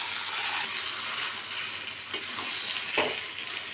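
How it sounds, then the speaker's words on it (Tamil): Mixed vegetables for avial are stirred into an onion and curry leaf tempering in a pan just taken off the heat, giving a steady close hiss of sizzling with a few scraping stirs. "கலந்து வச்சுருக்கிற காய் எல்லாத்தையும் இதில் போட்டு கிளறி எடுத்துக்கலாம்"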